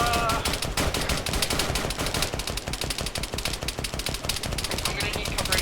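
Sustained automatic gunfire in the video game Arma 3, a dense, loud stream of rapid shots rattling without pause, with voices talking over it.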